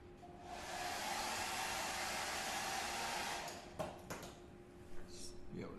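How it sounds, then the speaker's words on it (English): A blow dryer in a kitchen whirs loudly and steadily for a few seconds, then shuts off, followed by light clicks and clatter nearby. "So that's why I have a blow dryer"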